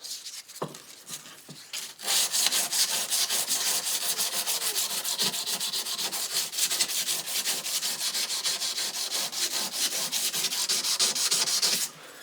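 Continuous rapid scrubbing of 400 grit sandpaper on a Damascus blade, close and steady for about ten seconds after a few light touches, with no talking.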